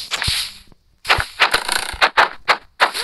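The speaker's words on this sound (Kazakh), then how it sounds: "мен жақта крипер жарылып жатыр мына жақта" A Minecraft creeper exploding, heard as a rapid series of sharp, punchy blasts with short gaps between them and no one talking.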